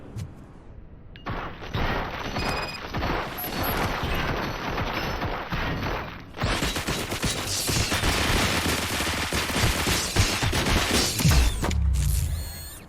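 Heavy, continuous automatic gunfire from Robocop: Rogue City, a dense roaring barrage of shots with booming impacts that swells louder in the second half.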